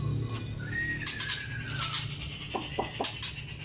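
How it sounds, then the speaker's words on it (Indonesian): A white-rumped shama (murai batu) from Medan, a bird with a 27 cm tail, sings close by: a drawn-out descending whistle, then several short sharp chirps over faint background hum. "burung seharga motor murai batu"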